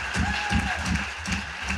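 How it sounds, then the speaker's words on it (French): A crowd applauds at a political rally, with steady close clapping, rhythmic and dense, filling the whole short stretch. "faut pas trop applaudir maintenant parce qu'il faut finir"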